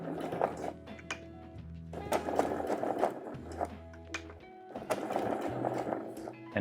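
A domestic sewing machine runs at a medium stitch length while stitching a slim zip pouch, in three close, rapid bursts of rhythmic needle clatter separated by short pauses.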